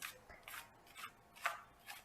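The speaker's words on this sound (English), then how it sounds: "I'm going to go ahead and start the shuffle." A tarot card deck is shuffled in a quiet room, faint rhythmic bursts of cards sliding and snapping together, about five soft strokes in two seconds.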